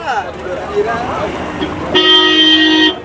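A vehicle horn gives one loud, steady honk lasting about a second at the Gudur sheep and goat market, following a stretch of crowd bustle and nearby talk.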